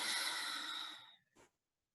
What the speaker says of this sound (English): Taking a big inhale. And a full exhale.